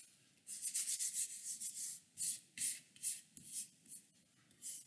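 Mod Podge brushed onto a photo on wood, heard as a series of close, soft rubbing strokes in quick bursts with short pauses between, fairly quiet and with no voices.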